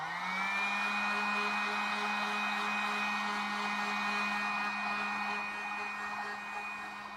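A hot air blower heating suede fabric gives off a steady whooshing whir with a thin, constant high whine. It holds evenly throughout with no talking.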